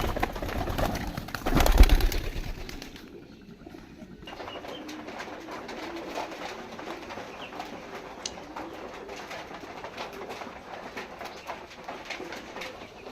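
Pigeons coo softly indoors in a house, with a loud bump and rustle early on and then quieter, intermittent bird sounds.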